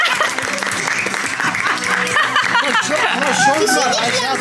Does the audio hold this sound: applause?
yes